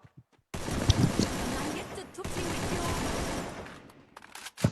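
Bursts of gunfire from the video game Free Fire, a dense, continuous barrage lasting several seconds with a voice talking over it.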